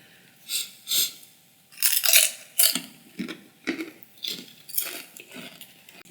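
Spicy, dark-coloured tortilla chip being bitten and chewed up close, a series of sharp crunches in irregular bursts with quiet gaps between.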